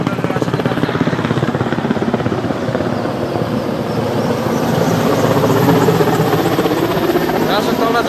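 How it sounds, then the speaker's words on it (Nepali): A helicopter departs a snowy training area to fetch more rations, its rotor and engine roaring steadily and swelling slightly louder toward the end, with faint voices underneath. "हेलिकप्टर फेरि गइरहेको छ राशन लिँदै।"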